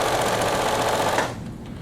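A sewing machine stitches a fabric pocket, reversing at the start of the seam: a steady, close, rapid mechanical whir that stops abruptly near the end, with no talk.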